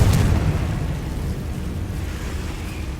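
A Confringo fire spell blasts in Hogwarts Legacy with a loud, deep boom at the start that rolls off into a sustained, rumbling decay.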